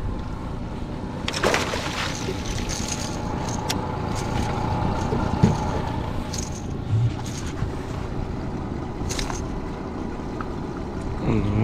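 A small fishing motorboat's outboard engine runs steadily on a lake, a continuous loud drone with wind and water noise, punctuated by a few sharper knocks and clatters.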